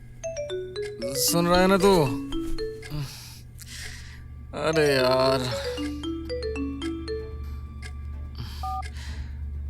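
A mobile phone plays a melodic ringtone of repeated stepped tones for several seconds while people talk over it.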